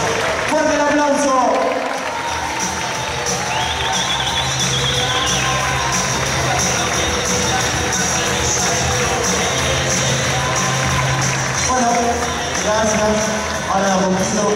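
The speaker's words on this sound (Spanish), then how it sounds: "Fuerte el aplauso." Steady applause from an award ceremony audience fills the whole stretch, dense clapping with scattered cheers and voices rising over it near the start and end.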